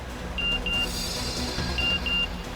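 A phone message notification chirps in two quick pairs of short, thin, high beeps, faint over a low background hum.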